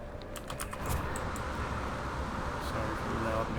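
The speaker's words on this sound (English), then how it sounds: "Sorry for the loud mechanical keyboard." Loud clicking of a mechanical computer keyboard during a No Man's Sky exploration session, a steady rapid patter of keystrokes close to the mic with faint talk and game sound underneath.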